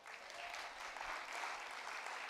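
Church congregation applause during a Spanish-language sermon, an even wash of many hands clapping at moderate, fairly distant loudness for the whole stretch, with no talking.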